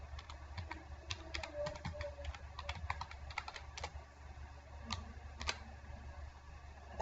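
A computer keyboard being typed on in quick irregular bursts of close, crisp clicks, with short pauses between words, fairly quiet, with no talk.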